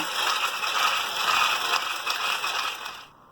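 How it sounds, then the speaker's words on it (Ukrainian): Electric mixer beating sugar, eggs and a pinch of salt into cake batter, a loud steady whirring buzz that runs continuously before cutting off near the end. "всю цю суміш відразу збиваємо"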